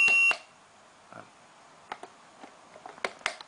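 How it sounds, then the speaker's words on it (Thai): A short buzzer beep from a CPLD-built digital alarm clock at the very start, then near silence with faint scattered clicks and taps. "เมื่อเสียงบัสเซอร์ดัง ถ้าลำคาญก็กดปุ่มสต็อปไปเลยครับ"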